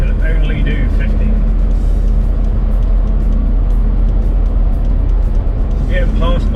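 Steady loud road roar from inside a London taxi cruising on the motorway at about 50, with constant low engine and tyre rumble throughout and a vehicle passing close alongside near the end.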